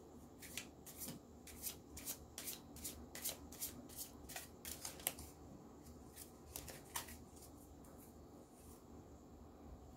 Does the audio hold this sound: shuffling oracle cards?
yes